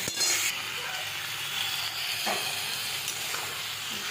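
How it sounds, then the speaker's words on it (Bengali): Vegetables fry in a pan with a soft, steady hiss and sizzle, broken by a few light stirring clinks and scrapes, fairly quiet and without talk. "দেখো এখানে সবজিটা ভাজা হচ্ছে"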